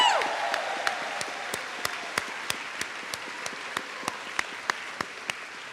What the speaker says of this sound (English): Come on, a big cheer.